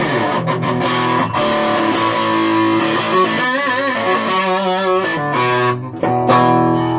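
Heavily distorted electric guitar, a Fender Mexican Baja Telecaster through its humbucker pickup, plays sustained chords and riffs, thick and loud throughout with no one speaking.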